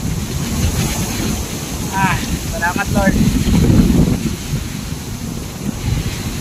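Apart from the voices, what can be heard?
typhoon wind blowing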